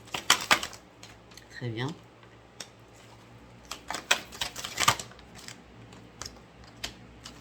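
Six cards laid down one by one on a table during a card reading, giving light scattered taps and soft slaps with brief French speech between them.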